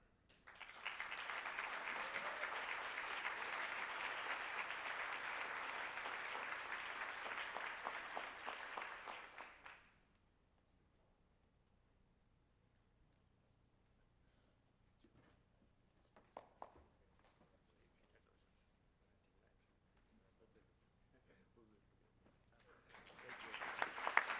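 A conference audience applauds two award recipients at a summer-learning keynote event in Atlanta. Dense, steady clapping from a large crowd fills roughly ten seconds, then cuts off to near silence with a few faint knocks before noise swells again at the end.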